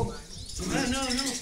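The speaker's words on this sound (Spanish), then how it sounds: "Mirá los pajaritos, mirá los pajaritos." Small birds chirp and twitter outdoors during a fishing outing, a continuous busy chorus heard fairly close for a brief moment.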